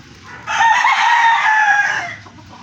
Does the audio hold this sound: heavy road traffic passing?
no